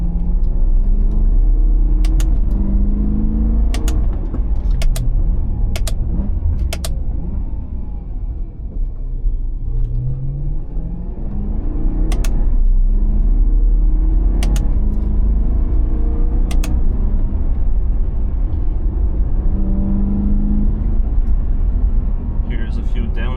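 A BMW E92 M3 driven in manual mode with paddle shifters gives a continuous close engine and exhaust drone that swells and dips through shifts, with sharp clicks from the paddles and someone talking over it.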